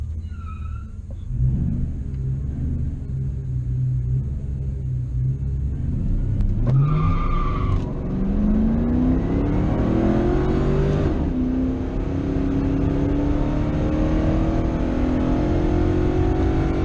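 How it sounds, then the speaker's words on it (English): Drag racing car launching hard with wheelspin at a strip, engine roaring loudly and rising steadily in pitch through the gears, with a brief squeal near the start and a constant heavy rumble throughout. "Got the win, but I was spinning off the launch. Launched too hard."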